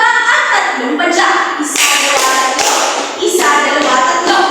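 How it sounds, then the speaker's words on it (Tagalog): Classroom of children giving a group cheer of three claps and three foot stomps, loud and close, with bursts of clapping and thuds spread over several seconds and children's voices mixed in. "bigyan din natin sila ng 3 palakpak at 3 padyak"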